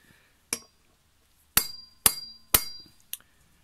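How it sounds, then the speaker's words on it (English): A hammer taps a bent socket Allen key seated in a Ducati bolt: five sharp metallic strikes, isolated and close, with brief ringing after each in an otherwise quiet space. "I'm actually going to give it a bit of a tap with a hammer"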